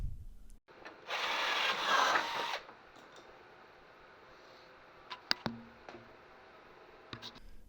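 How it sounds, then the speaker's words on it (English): A drill bores a pilot hole in a horn mount bracket for a GMC Safari or Chevrolet Astro core support, a loud grinding whir lasting about a second and a half, followed by quiet clicks and small knocks. "Drill a pilot hole."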